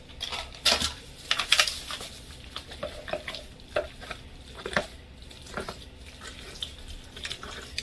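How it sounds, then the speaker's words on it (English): Mac and cheese being stirred in a pot, quiet rhythmic scraping and thick squelching strokes with light clinks of the spoon, heard alone. "Just stir it up a little bit more, and we're about to be done."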